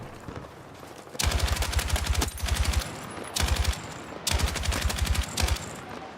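Automatic gunfire in Battlefield 6, with four rapid bursts of close, loud shots separated by short pauses, rattling over faint background game noise.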